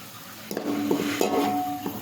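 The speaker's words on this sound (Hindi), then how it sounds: "इसमें प्याज डाला और प्याज ब्राउन हो गया हमारा।" Onions fry in a pot for chicken biryani, with a soft sizzle under scraping and clinking as a metal utensil stirs against the pan several times.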